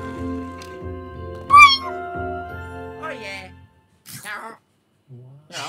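The polar kitty in the Luigi's Mansion 3 video game meows several times, bright and close, among other game sounds and tones.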